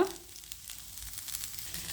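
Soaked puffed rice tipped into a hot pan of sizzling oil tempering for usali, producing a crackling hiss with scattered sharp spits and pops that brighten toward the end, moderately quiet and with no talking.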